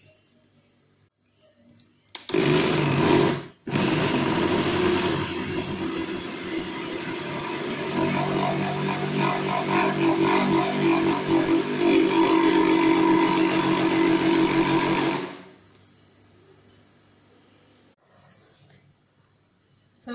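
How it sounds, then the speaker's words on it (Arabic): An electric blender grinding crêpe batter, a loud steady whirring drone that starts abruptly, pauses briefly, then runs continuously for about twelve seconds before cutting off. "وغادي نطحن كلشي في مولينات"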